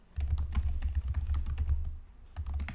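Quick clattering keystrokes on a computer keyboard while entering JavaScript comment lines, a close, steady run of typing with a short pause before it resumes.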